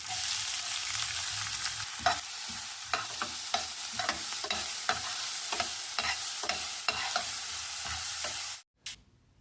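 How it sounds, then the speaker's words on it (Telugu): Chopped onion sizzling in oil with garlic, ginger and green chillies, a close continuous hiss punctuated by regular scraping stirs of a spatula, ending abruptly with a brief clatter. "ఈ ఆనియన్ చక్కగా ఫ్రై చేసుకోవాలండి, గోల్డెన్ బ్రౌన్ కలర్ వచ్చేంత వరకు."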